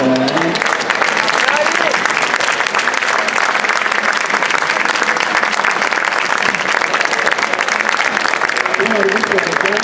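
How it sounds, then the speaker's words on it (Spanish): A book-fair audience gives a loud, sustained round of applause for the speaker Daniel Posse, with dense, unbroken clapping throughout and faint voices at the start and end. "Por eso le voy a pedir a todos un fuerte aplauso para Daniel"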